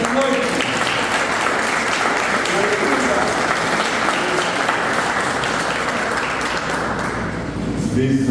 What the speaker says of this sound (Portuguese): Aplaude o Senhor nessa noite.